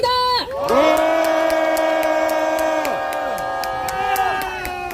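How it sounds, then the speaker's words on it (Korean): Participants at a university students' press conference outside the Constitutional Court in Seoul cheer with loud sustained shouts and whoops over steady rhythmic clapping, the crowd noise filling the whole stretch after a brief opening sound. "참가자분들의 큰 박수와 함성으로 시작해보도록 하겠습니다"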